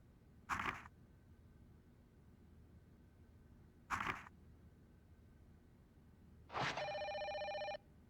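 In the Fatal Frame 5 video game, a phone rings in two short bursts separated by silence, then gives a longer, steadier electronic ring, fairly quiet and with no talk over it.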